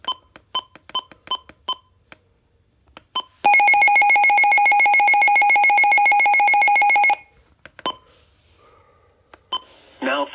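A weather radio's alert test: a steady, loud high-pitched tone sustains for several seconds between short electronic beeps and clicks, ending in a brief burst of broadcast audio.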